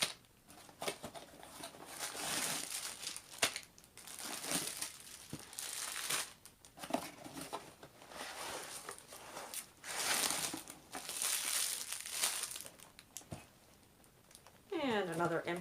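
A damaged, peeling cardboard box being torn open and diamond painting kits pulled out, with bursts of crinkling plastic and rustling packaging, close and fairly loud, while a person talks at times.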